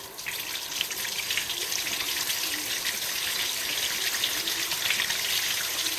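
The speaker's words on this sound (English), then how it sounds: "Now I'm doing a reverse flush on the radiator." Water rushes steadily through a car radiator during a reverse flush, a continuous loud hiss and gush like a running tap, holding even throughout with no voices.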